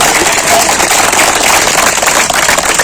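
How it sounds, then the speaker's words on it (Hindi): Loud, dense applause from the audience at a yoga camp near Meerut, a steady roar of many hands clapping close together with no pause throughout. "तालियां हो जाओ जोर से"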